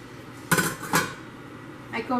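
A metal lid is set onto a pot of cooking rice, giving two sharp clanks of metal on metal close by, then a softer rattle as it settles.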